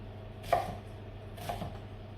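A knife chops through vegetables on a cutting board for a honey and sweet chilli chicken dish, two distinct close cuts about a second apart over a steady low background hum.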